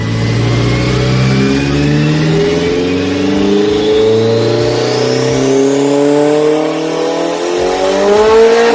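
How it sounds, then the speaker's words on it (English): A 700 hp Honda S2000 engine revs hard on a dyno at partial throttle, its pitch climbing steadily through one long, loud pull with a continuous, strained mechanical roar. "This is like 2 or 3 dyno pulls in. I'm still haven't gone full throttle."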